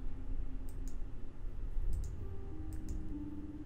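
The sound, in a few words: mouse clicking while playing a video game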